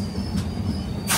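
A Hamsafar Express train rumbles at Royapuram station in a steady low mechanical drone with a faint high whine and brief hiss bursts, heard from on board without talk.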